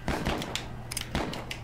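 Gunshots in the Westerado video game, a handful of sharp cracks spaced irregularly across a short stretch, fairly quiet and alone without talk.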